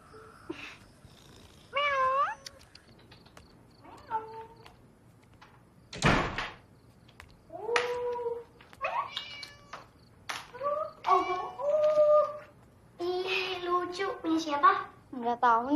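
A cat meows several times in a quiet room at night. The rising cries are spread over about fifteen seconds, with a sharp door bang near the middle and a few soft voices mixed in between the meows.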